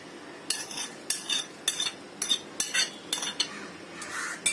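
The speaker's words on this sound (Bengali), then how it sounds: "এখন একটু মিশিয়ে নিতে হবে।" Metal spoon scraping and clinking against a bowl while stirring grated cheese with chopped coriander, eight evenly spaced close strokes in a steady rhythm with no talk.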